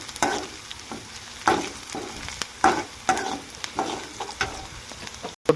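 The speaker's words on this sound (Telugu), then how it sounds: "కొద్దిసేపు వేయించిన తర్వాత ఉల్లిపాయలు ఇలా వేగిన తర్వాత" Onions with curry leaves frying in a pan, a close, continuous sizzle broken by regular bursts of spatula stirring and scraping, with no talking.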